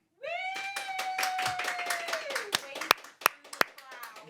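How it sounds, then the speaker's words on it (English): Small group clapping for a man named Sam in a podcast room, a close, uneven patter of hands that thins into a few scattered claps, with someone talking over it. "I think you should all give him a round of applause"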